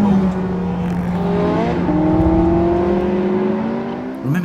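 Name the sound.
Porsche 918 Spyder engine on hot laps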